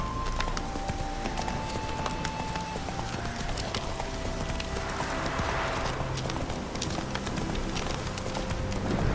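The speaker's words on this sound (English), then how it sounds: "Spooking my horse." Horse hooves clip-clop at a steady walking rhythm in The Witcher 3, close and continuous over a soft game ambience, with no speech.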